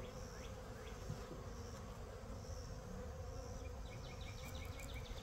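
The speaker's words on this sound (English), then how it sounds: "Now I have some bees flying on me." Honeybees buzz closely around a beekeeper beside a hive from a new package, a soft continuous drone with individual insects swelling and fading as they pass near.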